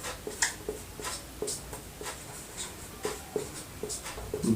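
A chemistry formula for the molecular mass of CO2 is written out by hand, producing faint, close scratchy strokes and light taps in an irregular rhythm, with no voice heard.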